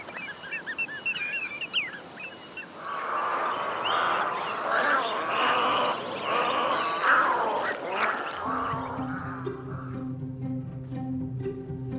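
Waterbirds call over fish farm ponds, a busy chorus of duck-like quacks and honking cries layered close and far, rising into a dense flock clamor before easing back.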